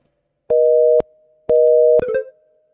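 Telephone line tone in the video game Simulacra 2: two steady electronic tone bursts about half a second each with a gap between, then a short garbled beep pattern, clear and alone.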